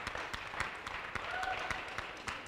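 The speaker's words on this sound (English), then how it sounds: "Clap her again." Scattered hand claps from a small group, uneven and fairly quiet, with faint chatter underneath.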